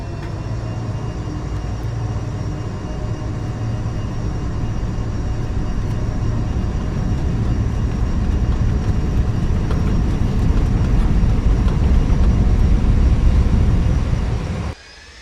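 Aircraft taxiing in the X-Plane flight simulator, the XL426 jet heard as a steady, loud, broadband engine roar that holds for about fourteen seconds before cutting off abruptly.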